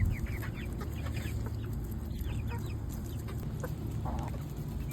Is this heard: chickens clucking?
yes